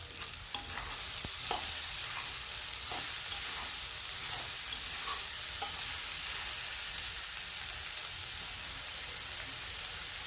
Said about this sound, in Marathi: अशी बारीक कापून घेतली भाजी. तिला छान परतून घेते.